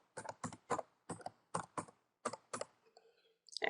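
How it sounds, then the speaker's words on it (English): Quick bursts of keystrokes on a computer keyboard, a short run of crisp close clicks in clusters with brief gaps, ending in a final flurry. "I'm going to type PowerShell."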